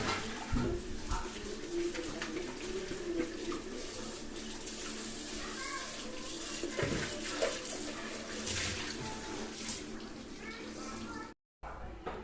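Tap water runs and splashes steadily while goat intestines are washed in a home kitchen for curry, with handling noises and a voice talking over the running water.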